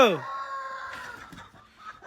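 Chickens and a rooster at a household, with a loud harmonic crowing call at the start followed by softer scattered clucks and bird sounds nearby.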